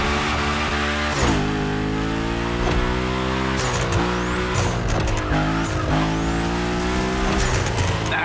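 Cars sliding through a gymkhana drift course in The Crew Motorfest, a loud continuous engine roar with shifting revs and long tire squeals running throughout, no talk.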